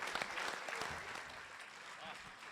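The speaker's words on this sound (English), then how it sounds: "Again, round of applause for our Polish talent here." Applause from a crowd at a Gymkhana GRiD live press conference, a steady wash of clapping that fades gradually, with voices audible underneath.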